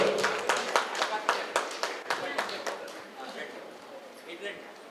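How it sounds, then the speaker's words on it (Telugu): An audience at a Ramana Maharshi pyramid meditation centre anniversary festival in Gudivada claps loudly in a burst of applause that gradually thins out over several seconds. "గట్టిగా చప్పట్లు."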